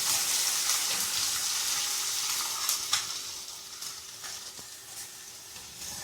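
Chopped onion sizzles in hot oil with cumin seeds, a continuous close frying hiss broken by a few brief stirring clinks.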